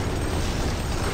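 Grenade explosion in Doom 3, a dense, sustained roaring blast filling the whole moment with loud low rumble, no voices.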